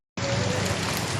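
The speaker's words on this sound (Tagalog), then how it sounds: "ulan ng malaki." Heavy rain during a typhoon evening in Quezon City, Philippines: a dense, broadband hiss of downpour starts abruptly and continues steadily at close range for about a second, with no voices.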